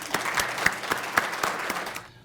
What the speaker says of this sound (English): let's give a big clap to all of us